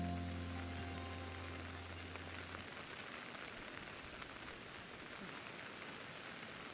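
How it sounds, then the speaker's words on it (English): Steady in-game rain from Pokemon Legends: Arceus patters as a soft, even wash, fading in after a brief sustained tone at the start and continuing alone without talk. "And it's still raining."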